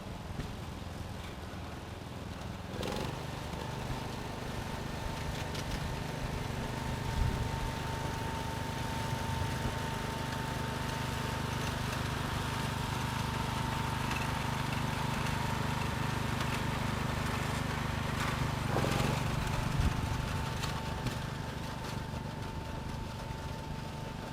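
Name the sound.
tractor engine running in a parade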